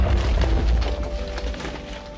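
A TNT cannon explosion in Minecraft, a deep, heavy boom at the start that rolls off and fades over about two seconds, loud and close with no talk.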